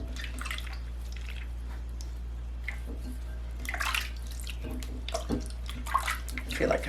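Water splashes and drips while an emulsified body polish scrub is rinsed off skin, intermittent close sloshing bursts over a steady low hum.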